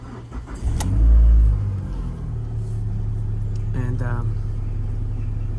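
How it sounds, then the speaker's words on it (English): A Chrysler PT Cruiser engine cranks and catches after a camshaft position sensor replacement, a loud low surge that settles into a steady idle hum, with a person speaking briefly over it. "Now I'm going to start the car first time after changing the camshaft sensor."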